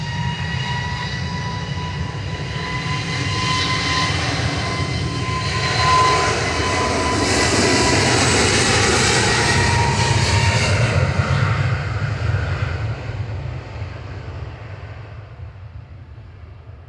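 A Jet2 airliner flies past at Manchester Airport, its engines a broad, loud roar that swells toward the middle and then fades away toward the end, heard from a distance with no voices.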